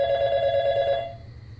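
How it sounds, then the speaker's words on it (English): A telephone rings once in the video game YIIK: A Postmodern RPG. The bright, steady electronic ring lasts about a second and then cuts off, leaving low background hum. "Or the phone will ring."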